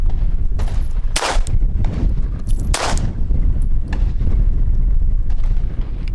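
Two sharp, loud .380 pistol shots fired double action ring out about a second and a half apart at an outdoor range, with fainter distant gunfire and background rumble between them and no talking.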